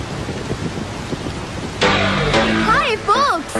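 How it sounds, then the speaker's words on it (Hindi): Heavy rain pours outside a bungalow as a steady, dense hiss, then continues beneath louder voices and music in the second half. "बाहर बहुत जोर की बारिश हो रही है"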